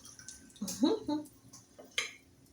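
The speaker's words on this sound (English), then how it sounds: "I'm going to pour off a little bit of the gravy. The oil." Oil poured off a pan of frying chicken livers with gravy: a soft liquid pour with a few clinks of the pan, quiet and close, with faint background noise.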